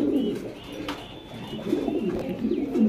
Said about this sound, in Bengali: দেখেন কত সুন্দর কবুতর